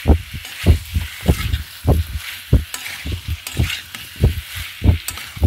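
Prawns sautéing in a pan with tomatoes and spices, heard as close, rhythmic bursts of sizzling and scraping stirring, repeated roughly every half second with no talk over it.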